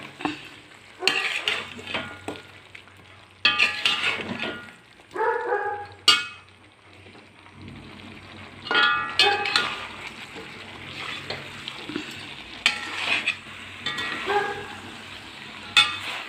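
Chicken for thoran stirred and fried in a pan, with repeated scraping strokes of a spatula and clinks against the metal over a steady sizzle, coming in uneven bursts.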